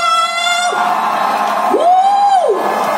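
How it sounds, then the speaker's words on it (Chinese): Concert crowd at an outdoor show in Penghu, Taiwan, in heavy rain, yelling and screaming loudly and continuously, with long rising whoops standing out from the dense roar. "现场所有的朋友，请给他们来一点尖叫声"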